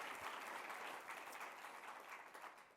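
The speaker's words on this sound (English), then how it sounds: "So I'd love for us all to just give a round of applause to Matt for doing that." Audience applause at a leadership talk event, steady dense clapping from a crowd throughout, fairly loud and continuous without speech.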